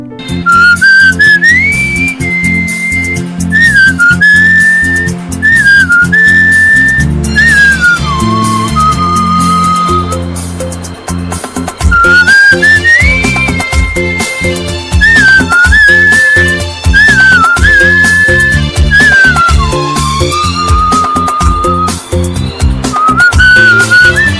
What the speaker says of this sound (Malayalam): ചൂളമടിയിൽ കഴിവ് തെളിയിച്ചിരിക്കുകയാണ്